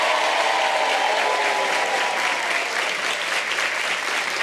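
A studio audience at a Brazilian television talk show breaks into loud, sustained applause that fills the room, with a faint tonal trace at the start and no speech over it.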